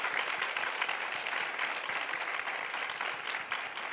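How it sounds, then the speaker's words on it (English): Audience applause greets panelists at a corporate board session, a steady, full round of clapping that holds evenly throughout. "So let's welcome them with a warm round of applause."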